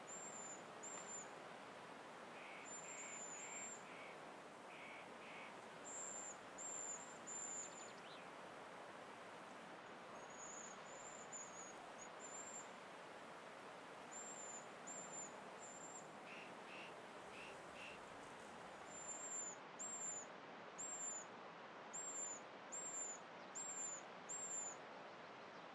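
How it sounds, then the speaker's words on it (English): Pygmy owl calls in an Alpine forest in daytime, a faint series of short, evenly spaced high piping notes that come in bursts through the whole stretch, set against steady soft background noise, with no voices. "the pygmy owl is usually a nocturnal predator, it now hunts in daytime as well, to fill the open beaks of its young"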